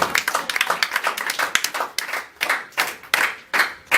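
A church congregation clapping loudly and rhythmically in praise of Jesus during a worship service, dense fast handclaps close and steady, then slowing into sharper, more spaced claps.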